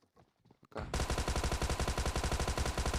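Sustained automatic gunfire from PUBG Mobile: a quiet lull, then a loud, rapid, unbroken stream of shots with an even, pulsing rhythm up close.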